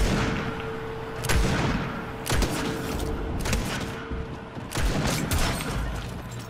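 Gunfire in a Fortnite match, with a few loud sharp shots spaced a second or two apart, each followed by a short rumbling echo, over quieter game background sound.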